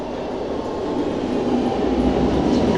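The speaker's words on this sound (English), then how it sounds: "So here it is. There's our train." A Milan metro train rumbles in at Loreto station, its roar gradually growing louder with faint wheel squeal and rattling, no voices.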